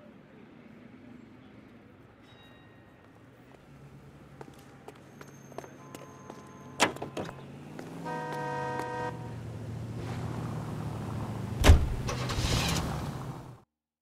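In L.A. Noire, a car is driven with a steady low engine hum that builds and shifts, mixed with clicks, a horn-like tone and passing game sounds, moderately loud and fading out at the end.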